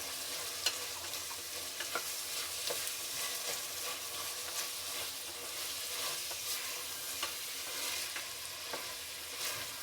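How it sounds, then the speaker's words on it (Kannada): Chopped tomatoes stir-frying in a hot pan for dal khichdi, a soft continuous sizzle with occasional scraping stirs, close and fairly quiet with no talk. "ಈಗ ಟೊಮೆಟೊ ಹಾಕ್ತೀನಿ."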